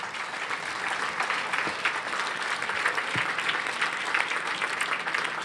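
Audience applause at a speech, with a dense, steady clapping of many hands at moderate distance and an even level from start to finish, without voices.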